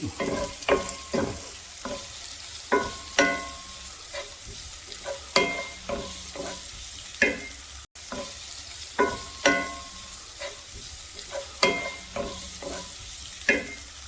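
Food frying in a pan is stirred with repeated sharp scrapes in a steady rhythm over a continuous sizzle, close and fairly loud, with no voices.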